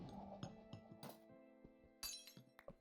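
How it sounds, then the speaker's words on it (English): Minecraft glass sounds from the Sounds mod by IMB11: a quick series of bright, close glass clinks and chinks, with a couple of louder crisp breaking bursts between the smaller taps. "I'm using a mod called Sounds by IMB11. That's where the glass sounds are coming from."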